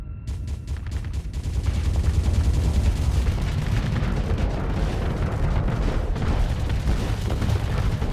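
Torpedoes and ship weapons fire during a space battle in the strategy game Starsector: a dense, loud, continuous barrage of booms and blasts that rumbles on without a break.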